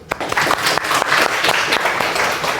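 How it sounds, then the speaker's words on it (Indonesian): A brief round of applause from students in a class, brisk close clapping that starts suddenly and stays steady for a couple of seconds. "Tepuk tangan dulu."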